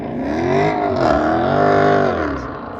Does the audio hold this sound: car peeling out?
yes